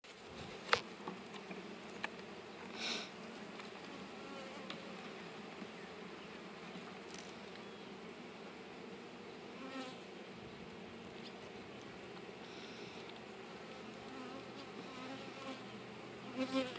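Honey bees buzzing steadily around an open hive affected by chalkbrood, a soft continuous drone with occasional louder individual bees passing close, no talk.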